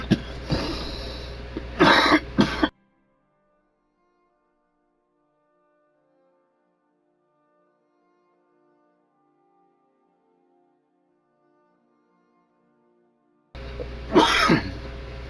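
Close, loud bursts of coughing and throat clearing from one person, a cluster at the start and another at the end, with dead silence between them while the microphone is muted.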